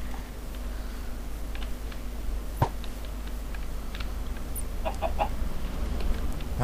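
Chicken clucking in the Minecraft video game: several short, scattered clucks come through over a steady background hum, fairly faint and irregularly spaced.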